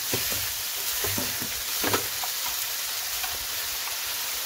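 Whole spices, black cardamom and cinnamon sticks, sizzle in hot oil for a potato keema dish: a steady, close frying hiss with small pops and the occasional stir.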